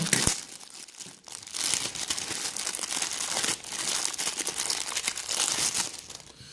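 Plastic packaging around an action camera is unwrapped, with loud, close crinkling and tearing in continuous bursts and one brief pause.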